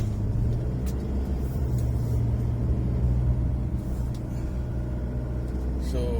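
A 2024 Isuzu D-Max 3.0L 4x4 X-Terrain pickup cruising at around 80 on winding country roads, a steady low engine drone and road rumble heard from inside the cab, with a few faint clicks and no speech.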